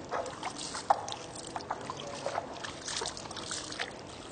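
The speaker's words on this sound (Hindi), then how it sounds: "आप पानी लें और इस तरह पानी डालते जाएं और खिलाल करते जाएं।" Water poured by hand over the feet during ablution, a soft steady trickle and splash that runs on close to the microphone with small uneven splashes and no talk.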